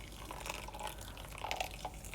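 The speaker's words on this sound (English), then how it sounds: "So I'm just going to add enough water" Water poured over brown cracked wheat (bulgur) in a bowl, a soft steady trickle with small splashy drips, faint and close, with no one talking.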